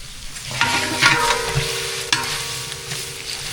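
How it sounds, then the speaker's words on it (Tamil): Onions sautéing in a pan for vegetable biryani, a steady sizzle with stirring scrapes and a few clinks of the spoon against the pan, close and alone with no talk. "வெங்காயம் நல்லா வதக்கிடுச்சு"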